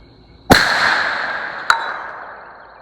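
A sharp rifle shot firing 125 grain Winchester ammunition cracks once, then rings out in a long decaying echo, with a second fainter report or impact about a second later; no voices.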